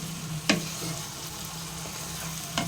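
Prawn and potato masala with salt, turmeric and Kashmiri chili powder frying in a pan, a steady low sizzle with two distinct scraping stirs, one early and one near the end.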